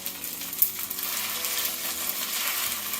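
Chinese chives and basil tossed into stir-fried drunken noodles (pad kee mao) in a hot pan produce a loud, steady sizzle with a bright clink of the tossing at the start, close up and without talk.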